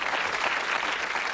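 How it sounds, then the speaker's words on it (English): Studio audience at a Bullseye game show breaks into steady, dense applause for a contestant, a brief burst of clapping with a faint voice underneath. "give him a round of applause, our contestant tonight"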